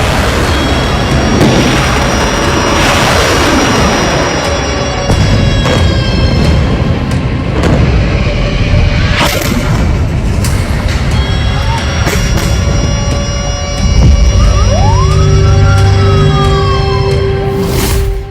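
Rocket attacks on Israel, with wailing sirens rising and falling under a loud, dense rumble and scattered booms, sustained and noisy throughout.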